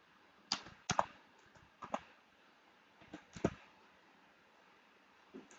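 Sparse, quiet keystrokes on a computer keyboard tap out a name, a handful of irregular clicks separated by pauses, close and faint.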